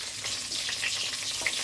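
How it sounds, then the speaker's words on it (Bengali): Cumin seeds and whole garam masala crackle and sizzle in hot fish-frying oil, a dense, bright spitting hiss close up with small pops and no voices. "মাছ ভাজা তেলেই দিয়ে দিচ্ছি জিরে ফোড়ন, গোটা গরম মশলা"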